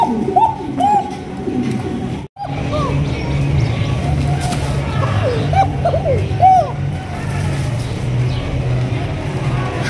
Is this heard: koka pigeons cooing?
yes